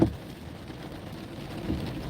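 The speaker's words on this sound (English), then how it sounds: "Still thundering out here." Steady heavy rain drums on a car during a night drive, with a low rumble of thunder swelling faintly near the end; no voices.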